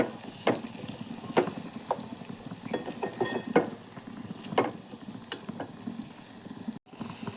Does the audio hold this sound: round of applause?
no